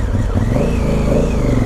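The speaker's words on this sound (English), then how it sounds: "My old exhaust is popping and farting a bit." A 2017 Honda Africa Twin with an old exhaust rumbles loudly while riding, its engine droning steadily in a continuous roar with slight pitch swells, close and dominant throughout, though distinct pops are not clearly separated from the drone.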